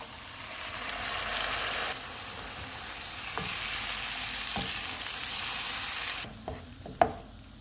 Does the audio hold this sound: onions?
yes